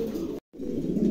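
Domestic pigeons cooing in a loft, a steady low throaty murmur that cuts out briefly midway and then resumes, close and fairly loud.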